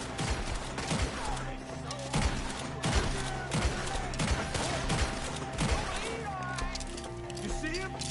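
Shootout gunfire in Red Dead Redemption II: repeated rifle and pistol shots cracking at an uneven pace through a noisy outdoor fight, with shouted voices mixed in.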